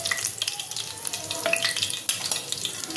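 Chicken bites sizzle and crackle in hot oil in a home kitchen, a steady dense frying hiss with scattered pops and occasional stirring clinks, close and continuous for a few seconds.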